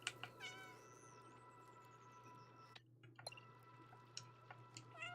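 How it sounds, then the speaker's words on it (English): A cat character in a video game gives a few short, quiet meows with rising and falling tones over a low steady background hum, and no one speaks. "How do we meow again?"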